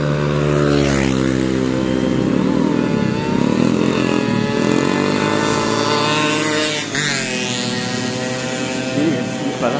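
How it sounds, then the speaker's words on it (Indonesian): Motorcycles race at night on the Transera Harapan Indah track in Bekasi, their engines droning and whining loudly with rising and falling revs as bikes pass, while someone talks over the noise. "Nah, digunakan untuk balap-balap kayak gini guys."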